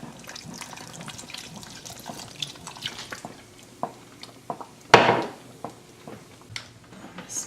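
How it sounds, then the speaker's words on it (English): Cider glugs and splashes briefly into a pot of pumpkin soup with smoked paprika and mushrooms, one short loud pour amid quieter kitchen clatter. "Pour in our cider."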